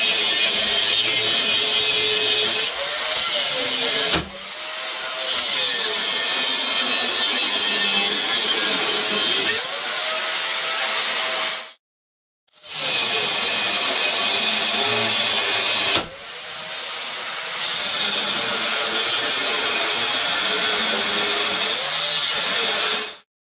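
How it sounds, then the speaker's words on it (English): A cutoff wheel grinds through old truck U-bolts, a loud, harsh high-pitched whine with bending pitch as it loads and unloads, running in long bursts broken by brief stops. "cutoff wheel made quick work of these old U-bolts"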